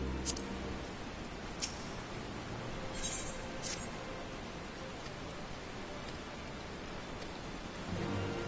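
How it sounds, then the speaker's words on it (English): Steady heavy rain hissing continuously in the video game Final Fantasy XIV, with a couple of faint distant rumbles; no voices. "It's raining pretty damn good."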